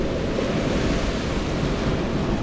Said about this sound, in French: Le courant des vagues.